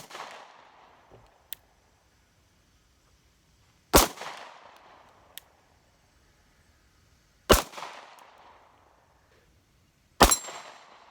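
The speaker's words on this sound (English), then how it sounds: "Let's try the same thing on some steel, and let's see how the steel goes." Sig Sauer P365 XL pistol shots fired at steel targets outdoors: three loud, sharp cracks several seconds apart, each ringing briefly, with faint metallic pings between.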